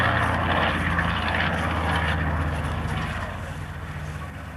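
Piston engines of a Catalina flying boat at the RAF Coningsby airshow make a steady, loud propeller drone that fades slightly toward the end, with no voices over it.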